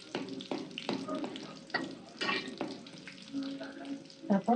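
Curry leaves and bay leaves dropped into hot oil, crackling and spitting close by with stirring scrapes and irregular pops, a faint voice in the background.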